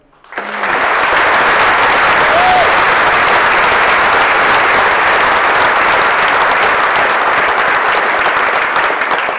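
A large audience at a lecture breaks into loud, sustained applause to welcome a speaker, holding steady throughout, a dense wash of clapping hands.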